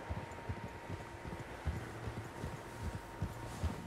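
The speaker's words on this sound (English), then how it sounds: "Horses, quite a few of them." Several horses walking in the Red Dead Redemption II video game, an uneven clip-clop of hooves repeating through the clip, soft and moderately close, over a faint outdoor background.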